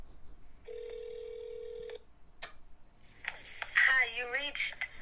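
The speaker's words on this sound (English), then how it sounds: "I'm going to go ahead and call the number, and I'll put it on speakerphone on my phone here" A phone on speakerphone calls a 1965 Record-O-Fone 100U answering machine: a steady ringback tone sounds for about a second, then a click, and a voice begins over the line as the call connects.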